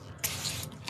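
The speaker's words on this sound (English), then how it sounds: "I'm going to spray some of these a little bit more." Spray bottle misting water onto agate slice art, one short hissy spray burst near and fairly faint, with a small trailing spritz at the end.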